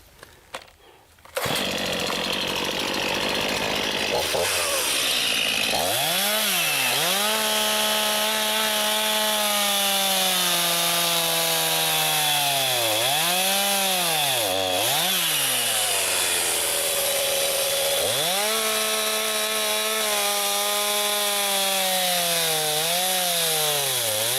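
Chainsaw cutting into a tree stump, the engine starting up loud and near, then holding a steady roar that repeatedly dips and recovers as the chain bites into the wood.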